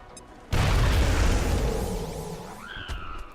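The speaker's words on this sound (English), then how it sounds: "Frag out." A frag grenade going off in XCOM: Enemy Unknown, a sudden loud close boom that rumbles and slowly decays, followed by a rising whine and rattling debris.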